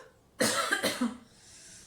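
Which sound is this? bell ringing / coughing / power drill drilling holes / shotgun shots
coughing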